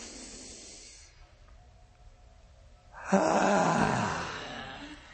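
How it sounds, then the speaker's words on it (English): A quiet held pause, then a loud, forceful breath pushed out with an audible rushing hiss that slowly fades. "breathe in, hold it for 5 seconds, and we'll breathe out with sound"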